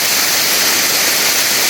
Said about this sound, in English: it's a beautiful, picturesque waterfall